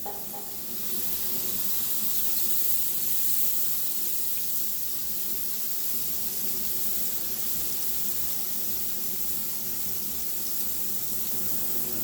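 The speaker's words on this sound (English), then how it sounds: "We'll throw a little more steam up under here." Steady broadband hiss of steam trapped under a cover on a Blackstone griddle while flatbread pizzas cook, continuous and fairly loud throughout with no talking.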